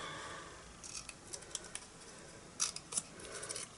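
Scissors snip through die-cut card to remove a roof section, a series of quiet, irregular crisp cuts close by with faint rustling between them.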